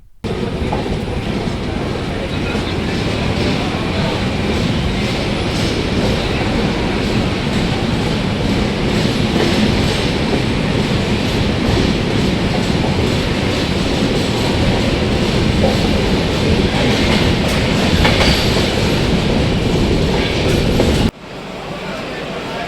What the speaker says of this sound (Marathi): 2 मिनिटाच्या हॉल्टनंतर 6:45 ही गाडी इथनं डिपार्ट झालेली आहे